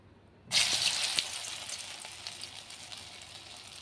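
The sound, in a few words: fritters frying in hot oil in a kadai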